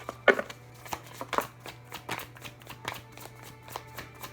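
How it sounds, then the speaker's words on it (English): Tarot cards being shuffled by hand, a quick run of crisp riffling and tapping sounds, close and fairly soft, with no talking. "It's going to take me a minute to sort of shuffle these because I do need 12 cards."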